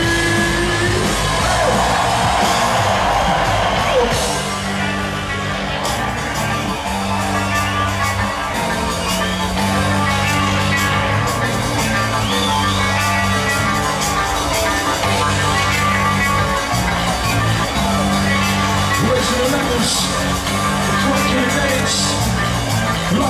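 Festival crowd yelling and cheering at a set at Glade festival, loud and sustained throughout over pounding live drum-and-bass music.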